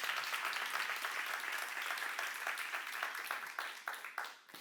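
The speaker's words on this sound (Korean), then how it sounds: "박수 하나 드세요" Congregation applause during a Korean church seminar, a soft, distant patter of many hands clapping that thins out and tapers toward the end.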